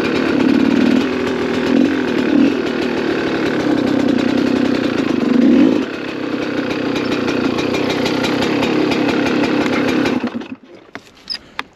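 A Gas Gas 300 two-stroke motorcycle engine runs loud and close with a steady buzzing drone and a few rev swells, then cuts off near the end, leaving a short stretch of faint clicks.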